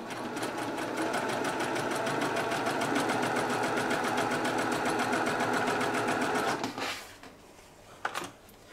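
A sewing machine runs fast and continuously while chain-stitching quilt star points, a loud steady whir that stops abruptly near the end, followed by a few light handling clicks.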